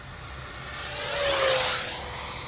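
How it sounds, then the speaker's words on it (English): Electric ducted fan whine from a 70mm EDF F-16 radio-control model jet making a flyby, rising to a loud peak as it passes close and then fading away. "Very stable jet."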